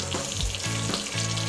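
Butter sizzling and frying in a hot pan on a stove, a steady close crackling hiss with a few soft stirring knocks, no voices.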